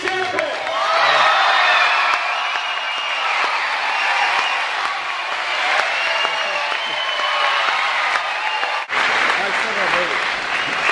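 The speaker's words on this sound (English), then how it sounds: "Round of applause for Pete Sampras!" An audience applauds and cheers for Pete Sampras at a tennis event, dense sustained clapping with scattered whoops from a nearby crowd, briefly dipping before the end as speech comes in.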